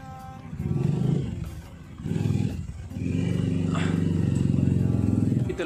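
Motorcycles idle and rev in a parking lot at a cathedral in Baguio, a steady loud engine drone rising and falling in several swells, with someone talking over it.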